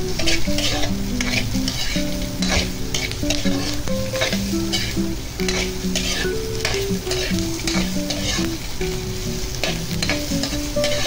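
Food frying in a pan, stirred so it does not burn, gives a loud, steady sizzle with spoon or spatula scrapes and clatters throughout. Close up, with no speech.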